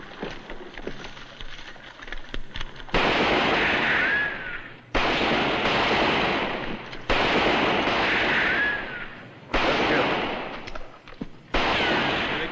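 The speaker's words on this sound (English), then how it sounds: "All right, start shooting." Rifle fire from a western drama bursts out in repeated loud volleys, with several dense blocks of shots and echoing cracks separated by short pauses.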